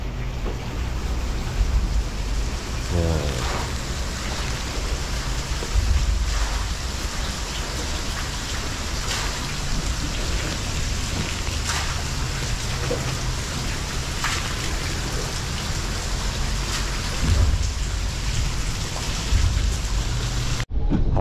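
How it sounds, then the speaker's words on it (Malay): Steady rain falls beside a murky, fast-flowing river near a bridge during a fishing trip, a constant hiss with occasional heavier drops, while a voice speaks briefly. "Hujan geng."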